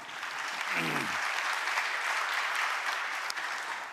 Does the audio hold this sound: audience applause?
yes